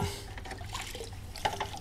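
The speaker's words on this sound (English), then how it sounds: "The water runs out the drain holes, it never slips and makes a mess anymore." Water trickling and draining through the holes of a tilted paint bucket grid, a soft close liquid patter with a few brief splashy bursts near the end.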